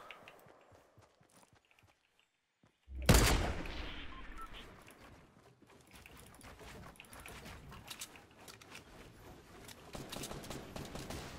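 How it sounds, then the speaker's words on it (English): Enemy gunfire in a Fortnite battle royale match, a sudden loud burst of shots followed by a dense clatter of quieter shots and footstep-like clicks that continue throughout. "They're like shooting at me."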